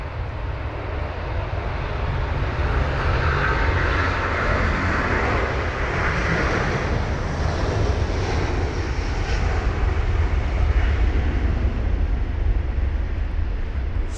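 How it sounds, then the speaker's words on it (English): A Delta Airlines Airbus A330-900neo departs London Heathrow on a wet day, its engines giving a loud, steady, broad roar with spray hiss that stays strong and close throughout. "this Delta Airlines A330-900 or Neo with a reg November 420 Delta X-Ray off to Los Angeles LAX it goes"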